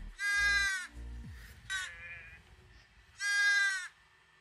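Two loud, electronic-sounding sheep bleats from a Miko toy robot, one at the start and another near the end, with a short chirpy sound between them, played close by.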